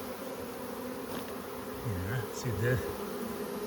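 A clustering swarm of honeybees drones steadily at close range, with a few louder buzzes of single bees passing near, while someone speaks briefly over the hum.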